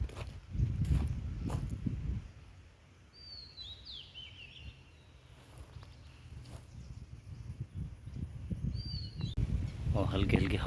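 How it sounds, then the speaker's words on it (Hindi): Birds chirp in a lush green forest, a few thin high calls scattered over soft wind and rustling, with low thumping noise near the start and end. "और चिड़िया की चहचहाट।"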